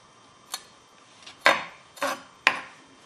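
Ingredients for a fish dish being chopped, four separate close knife knocks against a board at uneven intervals, with quiet pauses in between.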